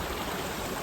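A mountain stream on Mount Hood flows beside a campsite, a steady close rushing of water with no voices.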